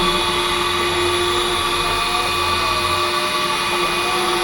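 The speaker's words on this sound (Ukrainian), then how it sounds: "і включаємо автоматичне розпилення" An AliExpress window-cleaning robot running its automatic mist spray gives off a loud, steady whining motor drone with a constant airy hiss, unbroken for several seconds.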